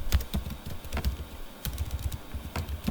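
Quick bursts of computer keyboard typing while entering PHP code, crisp close key clicks in uneven clusters with a short pause midway, no voices.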